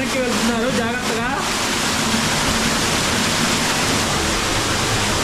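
Waterfall pouring inside a cave tunnel in the Waitomo Caves, New Zealand: a dense, steady rushing roar of falling water that fills the space, with a voice speaking over it at the start.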